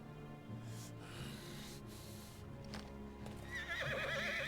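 A horse in Final Fantasy XVI gives a loud, shrill whinny with a wavering, quavering pitch near the end, rising over low game ambience and background music.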